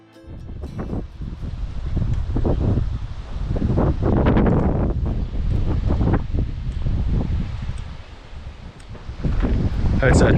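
Chilly wind gusts outdoors near Capitol Reef, a rough, rumbling rush against the microphone that swells and eases in uneven waves, loud and close throughout.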